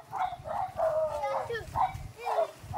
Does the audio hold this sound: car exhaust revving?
no